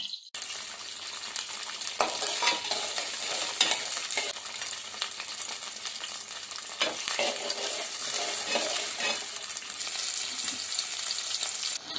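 Shallots, ginger and garlic frying in a pan for village-style boti curry: loud, continuous sizzling with frequent scraping stirs of a spatula, close and steady throughout.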